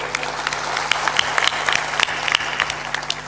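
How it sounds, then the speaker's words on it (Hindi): An audience at a Hindi spiritual satsang claps steadily throughout, a dense and fairly close patter of many hands. There is no clear speech over it. "थोड़ा जोरदार ताली बजाया करो"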